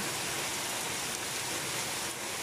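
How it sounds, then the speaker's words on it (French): Dense, steady downpour of heavy summer thunderstorm rain over a vegetable garden, roaring evenly throughout, a broad continuous hiss with no voices. "Une bonne grosse pluie d'orage."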